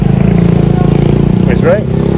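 A motorcycle engine rumbles loud and close with a steady low throbbing drone, passing at a house build site in the Philippines while voices speak over it.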